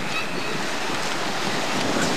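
Loud, close Atlantic Ocean surf roars continuously with wind-buffeted washing and breaking waves, steady throughout with no pauses.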